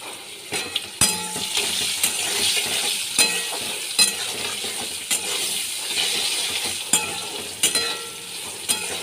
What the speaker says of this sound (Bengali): আলুগুলো আমি লাল করে ভেজে নিচ্ছি